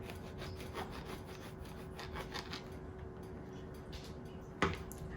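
A blunt bread knife saws through a bagel in quick, scratchy back-and-forth strokes, faint and close, ending with a sharp snap as the blade breaks through.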